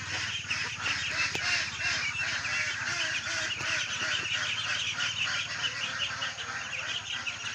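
A flock of month-old ducklings calls continuously while waiting to be fed, a dense chorus of honking peeps at moderate distance over a low background hum.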